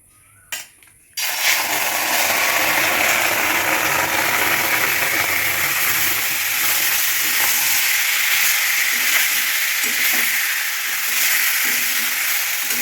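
Marinated chicken goes into a hot pan without oil over a spice tempering. After a brief clatter, a loud, continuous hissing sizzle bursts in and stays close and steady throughout.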